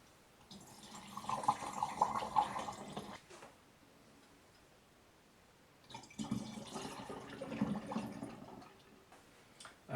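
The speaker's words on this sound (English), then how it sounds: "I'm just going to filter out the plums." Homemade Damson plum vodka liqueur being filtered to strain out the plums, heard as two separate bursts of liquid trickling and splashing close by, with a quieter gap between them.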